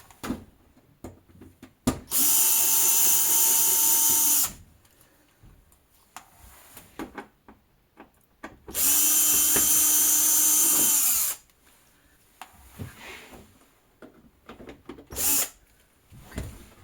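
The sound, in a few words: removing screws from scrap LED TV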